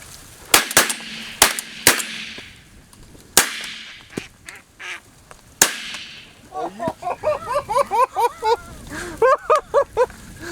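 Gunshots during a hunt in Nebraska ring out as several loud, sharp cracks spaced a second or two apart, followed by a run of rhythmic quacking duck calls, with people talking in between.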